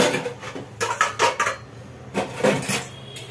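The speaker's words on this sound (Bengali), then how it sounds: "শুরু করে দিয়েছে ওদিকে বাসন কোসন মাজার পালা" Dishes, pots and pans clatter and scrape as they are scrubbed and washed in a home kitchen, in several short bursts of clinking metal and crockery close by, with no talk.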